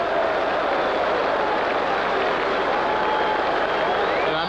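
A large rugby league crowd at a 1960s match roars and applauds in a loud, continuous wall of cheering and shouting that never lets up.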